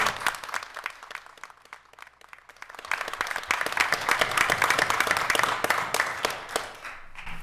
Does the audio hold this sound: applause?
yes